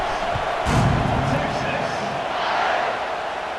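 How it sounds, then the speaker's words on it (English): A packed stadium crowd in the College Football 26 video game roars and buzzes after a score, a loud, continuous wash of cheering that swells and fades under a commentator's voice. "this crowd is buzzing after that last score"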